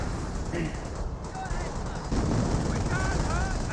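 Bursts of machine-gun and rifle fire crackle between units in the Company of Heroes strategy game, a dense continuous clatter of battle noise with a commentator talking over it.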